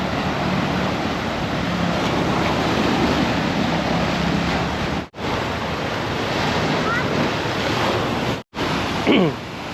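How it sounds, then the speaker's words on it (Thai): Ocean waves wash steadily onto Bang Saen beach at night, a continuous broad surf roar mixed with wind buffeting the microphone, with a couple of brief dropouts and a faint voice near the end. "เดี๋ยวดูคลื่นมันจะซัดมาหาเรา"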